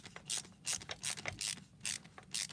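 Screw being tightened on a Leatherman Wave multitool with a ratcheting driver: quiet, close rhythmic ratchet clicks in about six short bursts, each a crisp metallic clatter separated by brief pauses.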